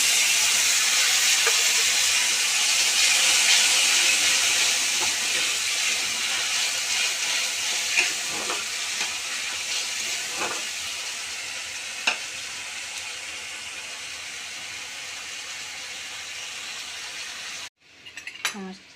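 Chow mein fries in a pan with onion, chilli, ginger, garlic, soy sauce, tomato sauce and vinegar, giving a steady close sizzle and hiss with occasional stirring scrapes that continues throughout before cutting off near the end.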